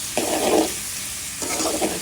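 Vegetables frying and being stirred in a pan for a small tilapia fish bhuna curry, with two bursts of scraping and sizzling separated by a quieter pause of low simmering, close up with no talking.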